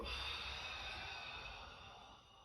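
A slow, steady breath out during a breathing exercise in a breathing arts class, a soft airy hiss that lasts a couple of seconds and fades gently toward the end, close and quiet, with no talking.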